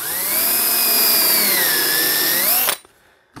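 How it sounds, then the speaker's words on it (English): A power drill boring through the holes of a P-51 pedal plane's tail wheel into the tail, one loud steady whine whose pitch sags and recovers as it bites, then stops abruptly. "Drill down through there."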